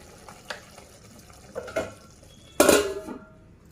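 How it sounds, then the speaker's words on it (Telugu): Metal cookware clatters in a kitchen: a few light clinks, then a louder clanging as a lid is set down on a cooking pot, ringing briefly before quiet. "మూత పెట్టేస్తాను నేను."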